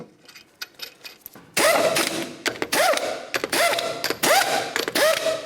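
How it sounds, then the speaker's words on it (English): A 21mm lug nut is started by hand onto a Pontiac Vibe wheel, with a ratcheting, clicking metallic sequence in quick repeated bursts close to the microphone. "we're just going to start on all 5 of our 21mm lug nuts"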